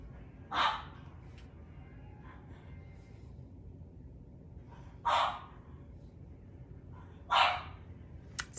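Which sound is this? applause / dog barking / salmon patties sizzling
dog barking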